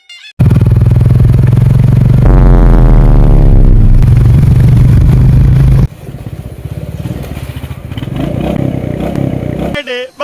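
A motorcycle carries riders along a road with its engine loud and close. It revs up with a rising, strained pitch, then settles into a rougher running drone mixed with wind and clatter.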